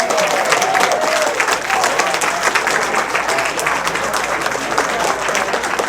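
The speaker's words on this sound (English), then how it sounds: "Let's hear it for Fred" Loud, sustained audience applause with a dense crowd of clapping hands follows a sung rendition of a song at a high school class of 1963 gathering, continuing steadily without a break throughout.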